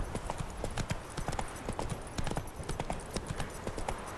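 Horse hooves clip-clopping at a steady riding gait along a path in The Witcher 3, a dense, even rhythm of close, crisp hoof strikes.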